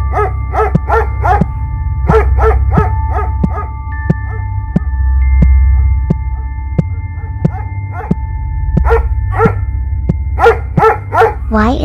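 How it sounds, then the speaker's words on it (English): A dog barks at the door in repeated sharp bursts, some single and some in quick clusters, loud and close, with brief gaps between volleys over a steady low background hum. "Why is Max barking at the door"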